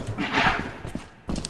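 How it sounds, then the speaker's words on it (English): Heavy, thudding footsteps of a giant creature in the Lethal Company video game, a few uneven low thumps close by, with a louder step near the end. "I might hear some gigantic footsteps."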